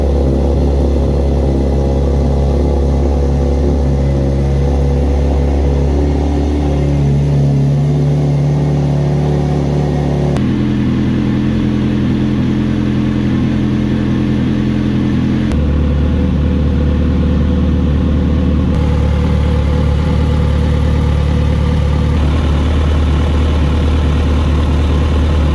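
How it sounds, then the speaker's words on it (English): A Kawasaki Z900RS motorcycle engine idles steadily while warming up to operating temperature. It makes a continuous low, even rumble that shifts slightly in tone a few times, with no talking. "run the bike to operating temperature"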